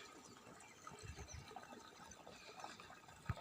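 Irrigation water flows into a farm field as a soft, steady trickle and gurgle, faint and continuous, with no one talking over it.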